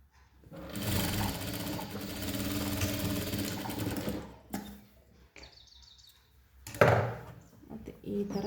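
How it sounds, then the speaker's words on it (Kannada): A sewing machine stitches the seams of an umbrella dress made from a saree, running in a long continuous burst and then shorter starts and stops, close and loud. "ಈಗ ಆಪೋಸಿಟ್ ಸೈಡಿಗೂ ಸ್ಟಿಚ್ ಮಾಡ್ತಾ ಇದ್ದೀನಿ."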